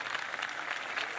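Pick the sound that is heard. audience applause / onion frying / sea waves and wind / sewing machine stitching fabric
audience applause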